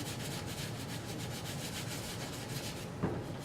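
A bristle brush scrubs a shoe with sudsy shoe cleaner in quick, rhythmic back-and-forth strokes, close and steady, with one brief knock near the end.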